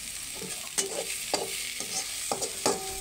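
Red amaranth greens frying in a little oil make a constant bright sizzle, with a few spatula scrapes and metallic taps against the pan at uneven intervals, close and without talk.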